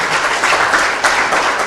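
An audience at a press conference applauds the minister in a short, continuous burst of clapping that holds an even loudness throughout.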